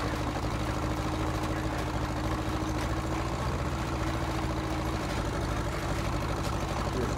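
A tractor engine runs at a steady low drone while pulling a seed drill across a field in 1954, a constant rumbling hum with faint mechanical rattle and no speech.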